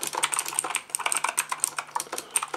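Rapid, continuous clicking of keys on a VicTsing anti-ghosting mechanical gaming keyboard with floating keys, close and crisp, with no speech.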